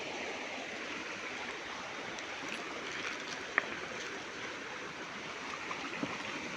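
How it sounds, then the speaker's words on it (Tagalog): High, fast river water rushing in a steady broadband roar, continuous and fairly distant, with a couple of faint clicks and no voices. "Medyo malaki ang tubig"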